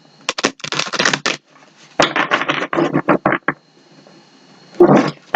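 A deck of tarot cards is shuffled by hand in quick riffling bursts, crisp papery flutters separated by short pauses, close and fairly loud.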